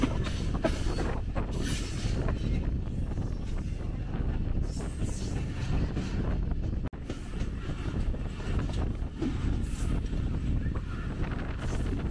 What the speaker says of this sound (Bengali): রাজশাহী কমিউটার এই মুহূর্তে প্রবেশ করলো নাসল রেলওয়ে স্টেশন